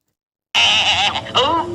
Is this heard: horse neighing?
yes